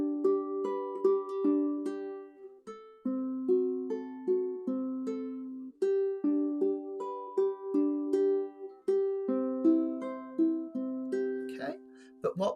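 Ukulele fingerpicking an 8-bar blues in straight, unswung time, a clear melody over a steady plucked bass pattern with even note spacing, played alone and close.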